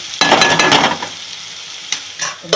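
Tomatoes with salt sizzle gently in a pan on low flame, with a few close stirring scrapes and utensil clinks over a steady soft frying hiss.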